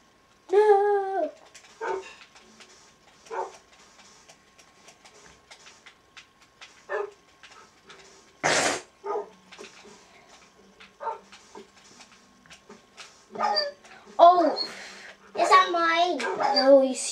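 Dog barking and whimpering in the Minecraft video game, several short yips and whines scattered between bursts of someone talking over the game sounds.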